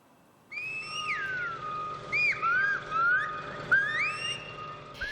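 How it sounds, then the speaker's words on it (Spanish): Clear, melodic Silbo Gomero whistling, the whistled language of La Gomera, with sliding pitch glides and short phrases, loud and close with no talk. "Es el lenguaje silbado que forma parte de la identidad gomera desde hace siglos."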